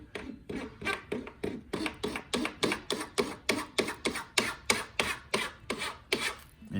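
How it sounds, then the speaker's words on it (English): A plastic scraper drags repeatedly across a shallow fill on a wooden furniture surface, making a steady rhythm of about twenty close, rasping strokes with no talk. "You can just use your plastic scraper. And we start with a very light touch."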